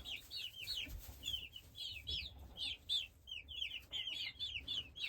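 Meat bird chicks in a brooder with a feeding trough and water, giving a steady stream of high, overlapping cheeps and soft clucks from many birds close by, with no talk.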